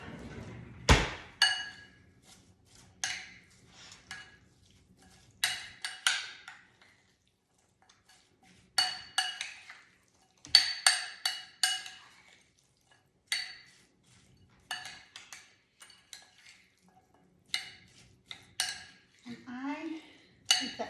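A utensil stirs food in a cooking pot, making repeated bursts of close metallic clinks and scrapes separated by short quiet gaps.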